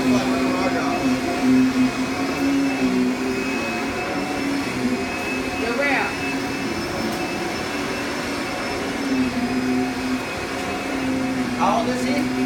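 A Kirby vacuum cleaner runs continuously with a steady whining motor hum, loud and close, with faint voices now and then beneath it.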